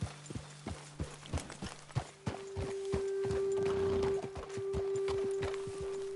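Horse hooves clip-clop at a walking pace in Red Dead Redemption 2, a steady run of close, distinct thuds with a low hum and ambient game sounds rising partway through.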